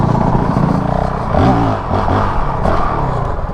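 A Honda CRF450L dirt bike ridden on a trail, its engine loud and close with rising and falling revs, accompanied by rattling and scraping from the terrain.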